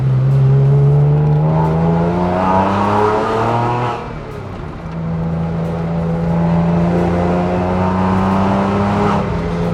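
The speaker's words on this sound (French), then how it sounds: "son du Flat 6 qui est légèrement aidé ici par une ligne totale super sprint" A loud, deep Porsche 911 997 Carrera S flat-six with manual gearbox and Super Sprint exhaust rumbles and revs up, dips briefly as it shifts, then climbs again with a throaty, sporty growl close by.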